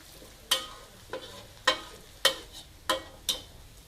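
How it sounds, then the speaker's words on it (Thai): Garlic and shallots fry slowly in pork fat over low heat, with six sharp spatula scrapes against the pan at a steady pace above a faint background sizzle. "เจียวให้ กระเทียมแล้วก็หอมแดงนะ"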